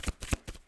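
Tarot cards being shuffled up close, a few quick soft riffling bursts in an uneven rhythm, fairly quiet.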